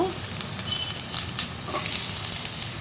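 Whole spices frying in a pan for chicken pulao, including cinnamon, cloves, cardamom and cashews, give a close, steady sizzle and crackle with light stirring, and no one speaks.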